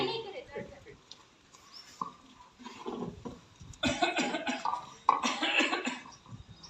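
A person with a long-lasting cough, in a tuberculosis awareness skit, coughs repeatedly in rough bursts, several close and loud, mixed with breathy throat sounds and some talking.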